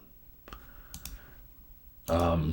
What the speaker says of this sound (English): we go and we click Run Pipeline